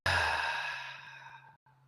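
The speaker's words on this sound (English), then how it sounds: "exhale the breath all the way out" One long, full exhale during breathwork, close and clear, letting the breath all the way out and fading steadily, followed by a brief pause and a softer breath.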